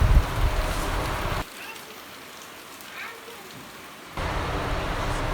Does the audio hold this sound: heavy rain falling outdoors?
yes